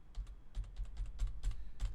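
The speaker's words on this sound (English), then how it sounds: "like I'm holding Control and hitting D, and it keeps repeating those same shapes at the same distance." Computer keyboard keys pressed in a quick run of repeated taps, a Control+D duplicate shortcut in Adobe Illustrator, close and fairly quiet with an uneven typing rhythm and no voices.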